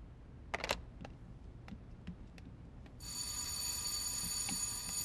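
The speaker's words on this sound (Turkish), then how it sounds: "Zil çalıyor." A doorbell at a home's front door starts ringing partway through, a steady bright electronic tone that follows a few faint clicks and knocks in an otherwise quiet room.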